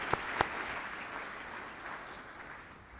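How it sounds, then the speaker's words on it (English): Graduating class of an ALS (Airman Leadership School) ceremony receives a steady wash of audience applause throughout, with two sharp louder claps near the start, then the clapping gradually thins toward the end. "Another round of applause for 18-2."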